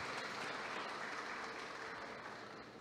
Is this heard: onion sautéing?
no